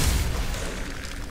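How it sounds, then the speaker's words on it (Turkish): A deep explosion effect from the Skyrim video game booms loud and close, then trails off into a rumbling decay over about a second and a half. "Patlama etkileri yapar."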